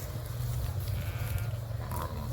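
A flock of pure Rahmani sheep for sale in Kafr El Sheikh, Egypt, bleating repeatedly and overlapping over a constant low background hum, close and fairly loud.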